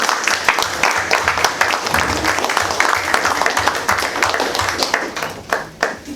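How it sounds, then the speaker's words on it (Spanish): A lecture audience at an academic symposium gives a strong round of applause, dense continuous hand clapping that swells and fades slightly throughout, with faint voices mixed in. "para quien pido un fuerte aplauso"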